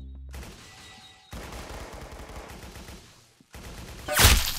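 Rapid aimbot gunfire in the Roblox game Arsenal, dense bursts of shots running through most of the stretch with a short gap and a loud, bright blast near the end.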